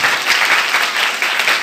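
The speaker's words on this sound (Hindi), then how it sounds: "तालियां" An assembly at a girls' senior secondary school breaks into strong applause for a student's exam success, a dense, loud wash of many clapping hands with no gaps.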